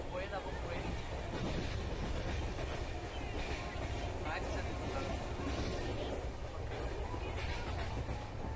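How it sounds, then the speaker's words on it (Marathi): A steady, continuous rumble of a moving train heard from inside a sleeper class coach on a rail journey from Mumbai toward Akkalkot Road, with faint rhythmic clatter and a voice talking over it. "तर चला, हा संपूर्ण पहा ट्रेनचा प्रवास."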